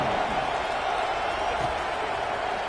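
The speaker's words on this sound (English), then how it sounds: "this crowd is buzzing after that last score" Stadium crowd noise in the College Football 26 video game, a steady dense roar of many voices holding at an even level throughout, with no distinct cheers or claps standing out.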